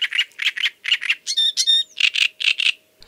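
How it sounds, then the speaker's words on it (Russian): A great reed warbler sings at night in riverside reeds, a close series of harsh, crackling paired chirps broken by a few clear whistled notes in a quiet setting. "вечером и ночью у реки в тростниках можно услышать трескучую песню дроздовидной камышевки"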